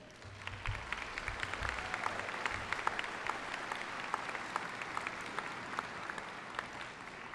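A large graduation audience applauds in a dense, sustained wash of clapping that holds at an even level throughout.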